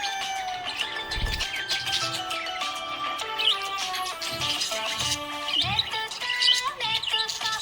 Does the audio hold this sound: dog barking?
no